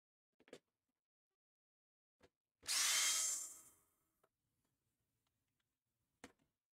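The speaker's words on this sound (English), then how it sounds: "That looks like it'd be a good fit, that drill bit." Power drill fitted with a drill bit during fursuit work: a single high-pitched whirring burst of about a second and a half, close and fairly loud, framed by a few sharp clicks and taps in an otherwise quiet room.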